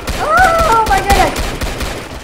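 Video game gunfire aimed at zombies comes in quick, loud bursts of rapid shots alongside a brief tonal game sound. An excited voice can be heard faintly underneath.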